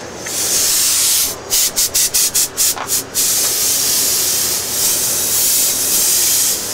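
Loud continuous hissing spray, broken by a quick series of short rhythmic bursts, then resuming as a steady hiss close by.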